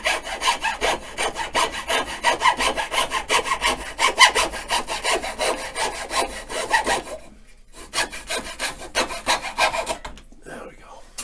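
A hand saw cuts through a pine log with fast back-and-forth rasping strokes, close and steady, pausing briefly before resuming for a few more strokes.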